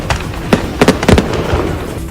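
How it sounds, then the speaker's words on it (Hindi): Firecrackers explode inside a burning truck at a celebration, giving a loud, rapid string of sharp cracks and bangs that overlap in quick bursts. "इसके बाद तो धमाकों की ऐसी झड़ी लगी कि जश्न में डूबे लोगों के रोंगटे खड़े हो गए।"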